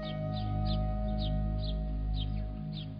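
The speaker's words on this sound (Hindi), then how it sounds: "अभी तो हमने एक मुर्गा भी यहाँ देखी थी, कहाँ चली गई वो?" A chicken clucks in short repeated bursts, roughly seven evenly spaced calls over a steady low background hum, with no talking.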